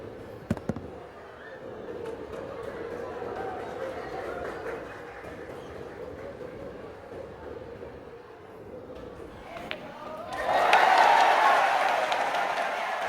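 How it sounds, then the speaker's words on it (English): A crowd at a world cup of pool match between Efren Reyes and Ralf Souquet erupts into loud cheering and applause near the end, after a quieter stretch of murmur and a commentator's voice. "The crowd is going bonkers."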